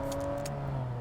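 A car engine in PUBG runs and revs close by, a steady mid-pitched hum with a rising tone and brief bursts of higher noise over about a second.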